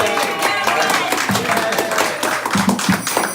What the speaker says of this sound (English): Applause for our audience members, please.